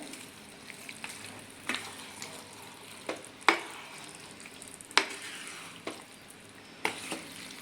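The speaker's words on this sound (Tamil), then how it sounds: "இப்போ நல்லா கொதிக்க ஆரம்பிக்குது" Chicken masala bubbles and sizzles steadily as it boils in a pan, with occasional sharp pops and clinks of a utensil against metal.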